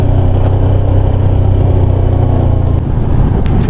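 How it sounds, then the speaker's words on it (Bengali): A motorcycle rolling slowly downhill on a misty mountain road between Zuluk and Rishop, its engine a loud, steady low drone close to the listener with a slight dip in pitch near the end. "বেশ আস্তে আস্তে গাড়িটা নামছে"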